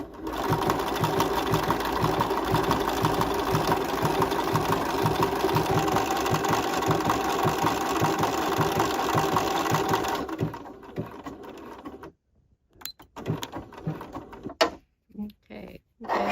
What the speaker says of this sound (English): I'm going to stitch this one on using the blanket stitch as well.